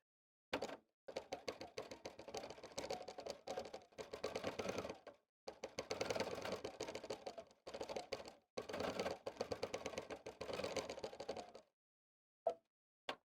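A sewing machine stitching as fabric is moved under the needle, rapid close mechanical ticking in bursts that stop and start with short pauses, plus a couple of isolated clicks at the end.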